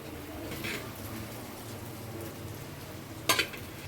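Basmati rice being stirred into fried vegetables in a pan for paneer veg fried rice, a soft continuous scraping and sizzle with a brief sharper clatter near the end, no talking.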